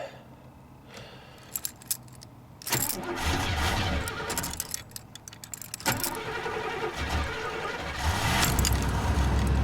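A 1983 Oldsmobile Regency 98 Brougham engine cranks and catches after the gas pedal is pumped, preceded by key jingles and clicks, then settles into a rough, steady idle close by.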